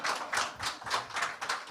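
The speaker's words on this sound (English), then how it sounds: "please clap." An audience at a Democracy Talk Series event claps, a faint, steady rhythmic pattern of group claps in regular pulses with no talking.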